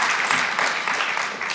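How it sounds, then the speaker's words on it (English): Audience applause fills a panel discussion among legislative leaders, steady dense clapping at a loud level throughout with no pauses. "You can clap loudly on that."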